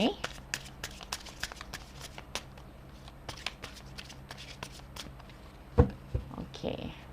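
Tarot cards are shuffled by hand, a rapid series of crisp flicks and riffles close by, ending with a heavier thump and rustle.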